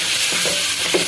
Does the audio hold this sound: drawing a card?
no